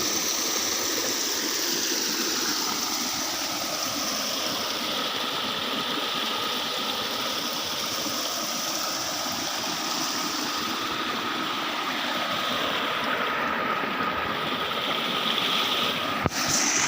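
Stream water flows continuously in a steady broad rush that stays loud and even, with a faint mechanical hum underneath and no talk.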